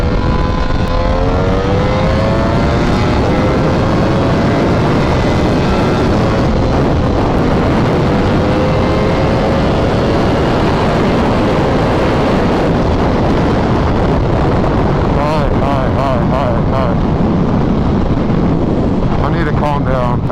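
A Ducati Panigale V4S motorcycle revs loudly and up close, the engine note rising and falling through sustained throttle blips, with wind buffeting the microphone and a voice speaking over it.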